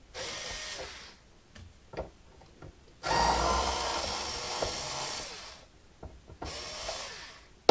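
Power driver backing rusted screws out of a Martin HD-28 guitar during tuner and bridge removal, with several short whirring bursts separated by pauses and one longer run in the middle, heard close up.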